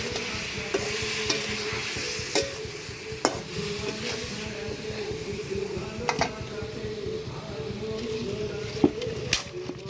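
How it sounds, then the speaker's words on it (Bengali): Fish curry spice paste for a sliced fish curry with aubergine and potato sautéing in a pan with a little water, a steady soft sizzle with scraping stirs and occasional sharp utensil clicks, birds faintly in the background. "এখানে একটু জল দিয়ে দিচ্ছি ভালো মতো কষানোর জন্য।"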